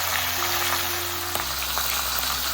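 Fish heads frying in oil in a pan, turned from side to side, giving a steady, dense sizzle and crackle that runs the whole time with a low hum underneath and no talking.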